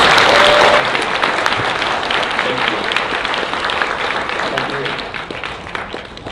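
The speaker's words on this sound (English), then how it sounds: "So make a big hand of applause for Matthew." A large audience applauds loudly for a speaker at a political lecture on American politics and U.S.-Asia relations, a dense sustained clapping that swells at the start then gradually thins and fades.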